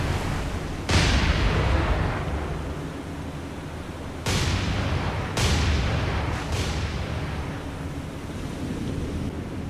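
Naval gunfire and explosions from the War on the Sea game, during a large convoy attack: heavy booming blasts strike repeatedly, each trailing into a long rumbling decay over continuous roaring background noise.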